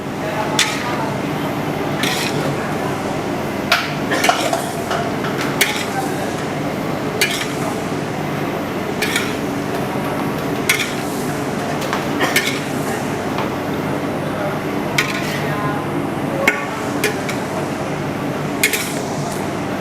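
A large pot of vegetables is stirred, with repeated metallic clinks and scrapes from the utensil against the pot, spaced irregularly over a steady background hum.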